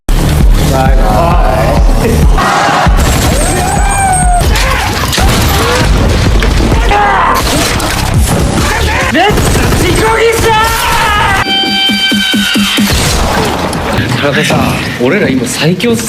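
Film gunfight breaks out in bursts of shots, booms and crashes under constant dramatic narration and score, loud and dense throughout.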